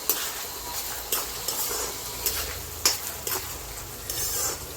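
Dry fish, salted and seasoned with turmeric, sizzles steadily in a pan while a spoon scrapes and stirs it in sharp periodic clacks.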